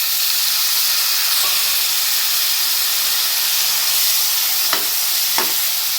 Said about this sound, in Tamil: ஒரு 2 நிமிஷம் வதக்குங்க. தக்காளி போட்டுக்கலாம்.